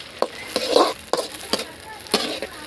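Goat head curry fries in a pan while a ladle stirs and scrapes it in sharp, irregular strokes over a soft background sizzle, close and fairly loud, with no talking.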